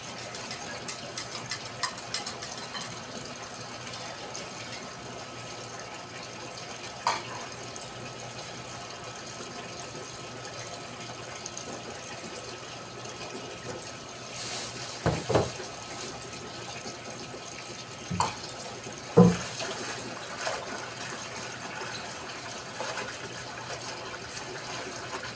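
Water runs steadily from a tap while laundry is washed by hand in the morning, a continuous near wash of flow broken by a few brief splashes and knocks.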